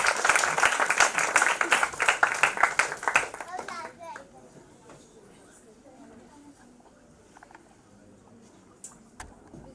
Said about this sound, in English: Let's give them a big round of applause, parents.